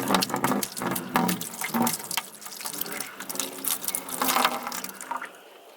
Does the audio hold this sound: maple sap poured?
yes